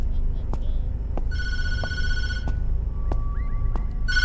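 A telephone rings in a horror video game, bursts of shrill electronic ringing that start and stop over a low rumbling background, with sharp clicks scattered between the rings.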